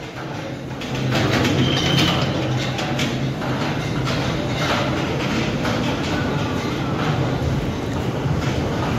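A Koyna Express train at the large Miraj railway station gives off a steady, loud rumble of rolling wagons with faint clicks and station ambience throughout, no one speaking.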